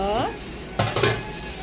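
A metal lid set onto a cooking pan of prawn curry tomatoes gives a short clatter and a second quick clink near the end, close and fairly loud, following a brief bit of speech.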